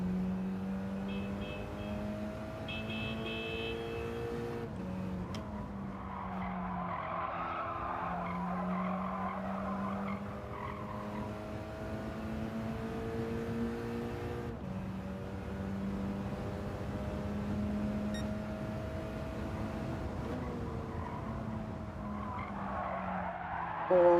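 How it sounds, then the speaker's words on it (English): Gran Turismo 7 racing game audio of a Mitsubishi Lancer Evolution IX sliding in a lobby race, with long sustained tire skid and squeal over a steady engine drone, continuous and fairly loud with no talk. "That was a huge slide there."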